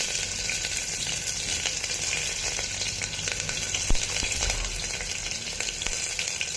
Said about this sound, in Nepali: लसुन पनि हालिदिएँ।